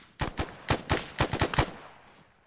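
Rapid bursts of rifle fire in the military game Arma during a jungle mission, about ten sharp close shots in quick uneven succession, then a fading tail.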